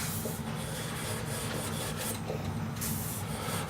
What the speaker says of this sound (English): First thing I'm going to try to do is get some of the rust off of this thing.